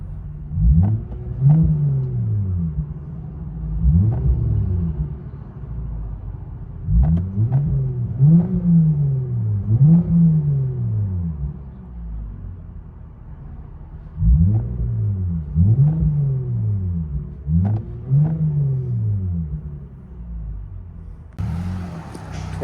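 Heard from inside a 2023 Lexus IS 350 with a 3.5L V6 and Flowmaster Flow FX exhaust, repeated revs climb and drop in clusters of two or three, muffled and steady, with brief quiet gaps between sets.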